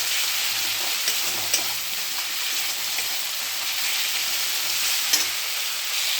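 Masala frying in hot oil in a pan, a steady loud sizzle with soft stirring scrapes, no voices.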